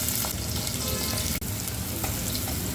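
Onion frying in oil with cloves, black cardamom and shahjeera for a Marathi country-chicken curry, a loud, dense continuous sizzle close to the pan, with one brief dropout midway and no talking.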